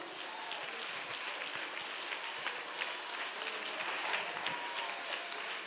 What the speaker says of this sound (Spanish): Aplauda fuerte a Jesús